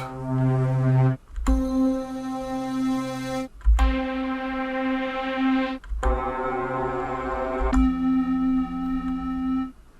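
Rich, sustained synthesizer chords in an ambient electronic style, four long swelling notes separated by brief pauses and soft low thumps.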